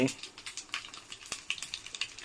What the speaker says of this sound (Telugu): ఇగో తాలింపు వేస్తున్నా